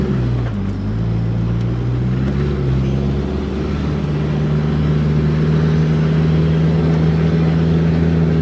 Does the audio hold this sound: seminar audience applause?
no